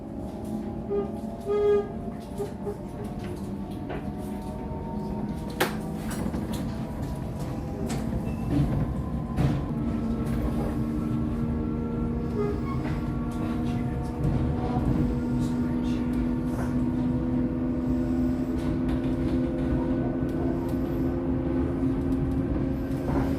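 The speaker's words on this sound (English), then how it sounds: "can you hear the traction motor?" Traction motor of a train on the Byron Bay railway in New South Wales, heard from on board: a sustained tonal electric whine and hum that shifts gradually in pitch, steady and moderately loud, with occasional clicks and clunks.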